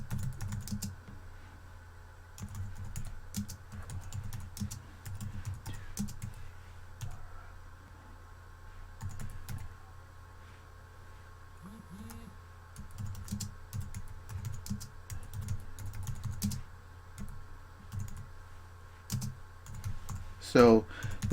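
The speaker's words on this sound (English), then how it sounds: "I'm going to start typing the content that I want." Typing on a computer keyboard to add annotation text in Preview: quick bursts of clicky keystrokes with short pauses between them, over a steady low hum. One sharper click comes near the end.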